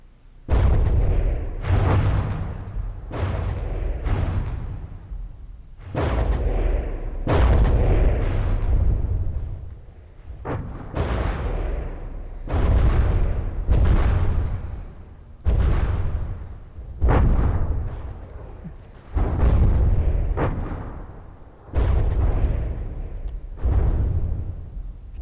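Torpedoes striking a ship in the naval game From the Depths, about fifteen heavy booming explosions in irregular succession, each a sharp loud blast with a rumbling decay.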